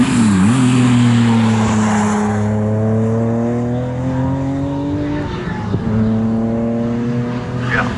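Saloon racing cars, including the number 70 Toyota Lexus Mongrel, roar past at Snetterton circuit, one engine note holding a long steady drone before dropping away, then another car's rising whine follows, loud and close.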